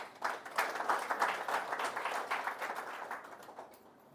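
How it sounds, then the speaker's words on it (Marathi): Scattered applause from a seated audience of about 120 leaders at a group meeting, fairly soft and distant, rising quickly then thinning out over a few seconds. "तुमच्यासाठी एक जोरदार टाळ्या."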